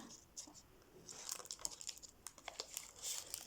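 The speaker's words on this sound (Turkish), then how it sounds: "enjektörümüzü açıyoruz. Enjektörü açarken açma kısmı var. Bunu bu, bu, bu şekilde açıyoruz." A sterile syringe package is peeled open, giving crisp crinkling and tearing of the wrapper in short bursts, moderately close and fairly quiet. A voice speaks in the background.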